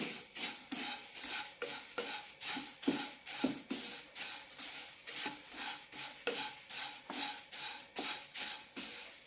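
Flattened rice (aval) roasts in a pan over a low flame, stirred with a spoon that scrapes the pan in quick rhythmic strokes, close and moderately quiet, with no talking.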